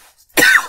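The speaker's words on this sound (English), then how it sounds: "you can go ahead and cough into our chocolate" A single short, forceful cough bursts out close and loud after a brief quiet moment.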